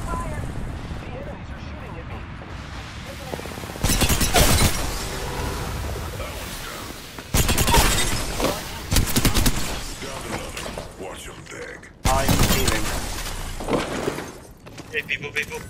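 Apex Legends gunfire comes in several loud, dense bursts of rapid shots with sharp impacts, split by calmer stretches of ambient noise. Voices speak between the volleys.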